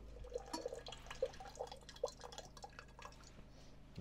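Water is poured into an all stainless steel percolator outdoors in winter, a series of close drips and small splashes with a faint metallic ring over low background noise.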